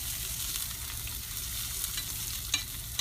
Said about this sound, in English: Those onions get cooked and the peppers get cooked.